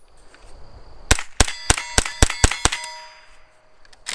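A CMMG .22LR conversion kit in a rifle fires a rapid string of about seven sharp, loud metallic reports, spaced roughly a quarter second apart, before going quiet as the bolt locks back.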